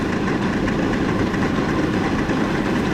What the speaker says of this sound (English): the Shay is a geared locomotive, so it's a 3-cylinder locomotive